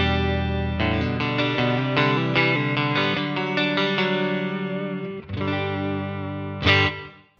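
Electric guitar played through a NUX MG-50 modelling amp set to a Deluxe Reverb model, clean chords and ringing notes with reverb and chorus shimmer, loud and close, a brief pause near the end before a final strummed accent.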